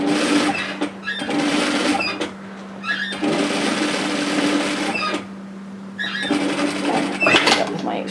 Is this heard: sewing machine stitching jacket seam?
yes